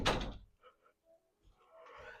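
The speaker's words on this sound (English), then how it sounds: "Will you close the door back?" A door is shut indoors: a loud, sharp knock and rattle at the start, followed by faint scrapes, small clicks and a soft rustle trailing off in a quiet room.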